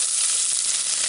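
Onion and green chili hitting a hot pan in a vegetable kurma, a steady bright sizzle that is loud, close and continuous throughout.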